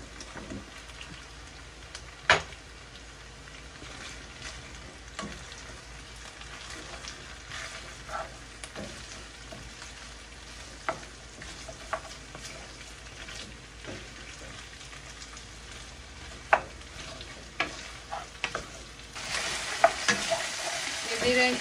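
Potatoes fry in a pan in a home kitchen, a steady close sizzle broken by scattered scraping clicks from stirring, growing louder and brighter near the end.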